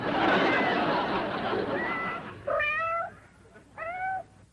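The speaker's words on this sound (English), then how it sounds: "How come you brought along the pussycat?" A cat meows twice, clear and close, each call a short rising-falling cry following a stretch of broad rushing noise at the start.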